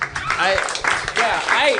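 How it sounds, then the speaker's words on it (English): An audience at a live podcast show claps in short, uneven bursts, with voices talking over the applause throughout. "That applause is very apprehensive"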